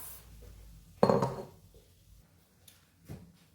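Fried yam and egg sauce are served onto a plate with a single close utensil clatter and scrape, followed by a softer knock, with no talking.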